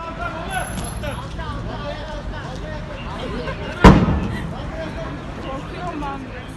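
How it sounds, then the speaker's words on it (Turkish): A sudden sharp bang from a small explosion in a burning car cuts through a noisy crowd scene with murmuring voices and background commotion, then fades quickly. "Tam o sırada yaşanan küçük çaplı bir patlama herkesi korkuttu."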